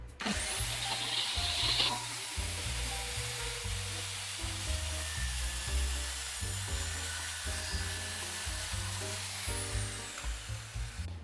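A Mollar MS1200SL 7-inch sliding compact miter saw with laser cuts through a wide board, its high motor whine sustained for about ten seconds with a low chattering rumble from the blade biting the wood, then spinning down.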